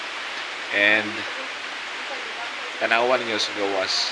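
Steady rain falling outside in Dumaguete City, Negros Oriental, Philippines, a constant even hiss running throughout, with someone talking over it.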